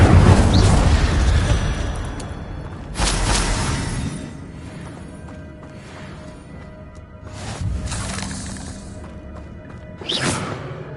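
Incendio fire spells cast in the video game Hogwarts Legacy: four loud whooshing fiery bursts spaced a few seconds apart, each flaring and fading into a crackling, rumbling bed with no talk.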